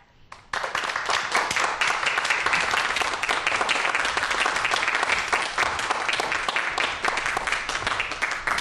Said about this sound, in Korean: 강연해 주실 분 주대준 교수님 큰 박수로 모시도록 하겠습니다.